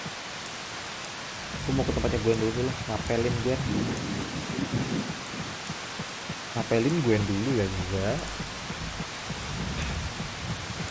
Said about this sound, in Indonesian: Di hari yang penuh badai seperti ini.